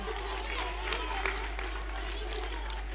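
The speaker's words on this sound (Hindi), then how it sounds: "एक बार जोरदार तालियां हो जाएं शनि के लिए" A school audience at an assembly with Swami Ramdev applauds a student, a faint, steady wash of many hands clapping over a low electrical hum.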